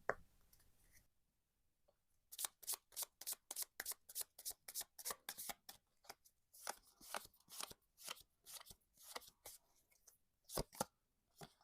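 Lenormand tarot cards shuffled and laid out by hand, a rapid series of crisp riffling snaps with short pauses between bursts, close and clear with no talking.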